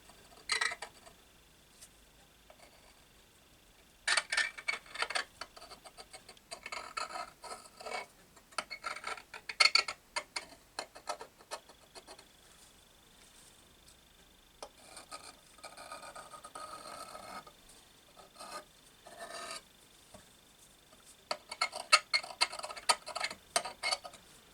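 A scribe scratches outlines onto metal brackets for a motorcycle bobber restoration, producing repeated short, faint scraping strokes in irregular bursts, close up with quiet pauses between.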